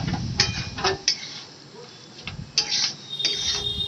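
A spoon scrapes and clinks against a pan while snail (googli) curry is stirred, giving a few irregular metallic taps and scrapes at close range with soft quiet gaps between them.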